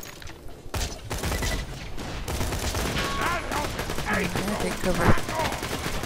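Rapid automatic gunfire bursts from the co-op shooter video game Borderlands 2, crackling steadily through the whole stretch while players talk over the shooting.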